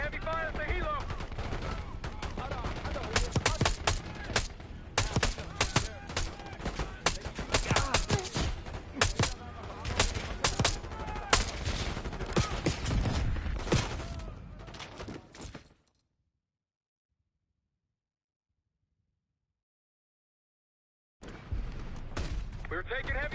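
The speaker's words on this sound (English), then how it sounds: "We're taking heavy fire at the helo." Heavy gunfire rages in a Black Ops 6 campaign firefight near a helicopter, with dense bursts of shots and booms stacked over one another, loud and continuous for about fifteen seconds before a sudden silence, then the firing resumes.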